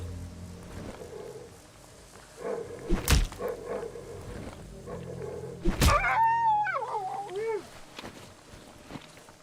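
Hostile dogs in the horror video game Darkwood make a drawn-out, wavering whine and snarl after two heavy thuds, loud and close over a low ambient drone.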